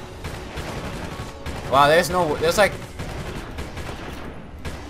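Video game Prototype: a short burst of automatic gunfire sits in the middle of loud game noise, while a player speaks over the action.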